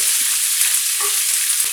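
Chickpea flour dhokla mixture with curry leaves and coriander being stirred in a pan, a steady, bright sizzling hiss with soft scraping under it and a small thud near the end.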